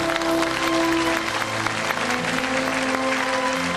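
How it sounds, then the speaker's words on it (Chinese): A studio audience applauds to welcome Xu, an elderly beekeeper, a dense steady clapping throughout with a faint tonal hum underneath. "还掌声有请徐大叔来"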